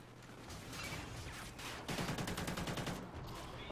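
Automatic gunfire in Call of Duty: Ghosts: a sustained rapid burst of evenly spaced shots that swells midway, with muffled battle noise around it.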